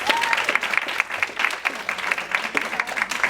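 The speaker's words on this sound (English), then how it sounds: "if you could please give these wonderful gentlemen a round of applause" A conference audience applauds a men's panel, with dense, lively clapping sustained throughout at close range.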